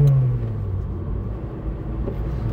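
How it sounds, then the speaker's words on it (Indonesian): A Honda Integra Type R's engine rumbles loudly up close as the car accelerates, a steady revving drone that holds for a couple of seconds. "Dan memberikan hempasan ke belakang itu yang kuat."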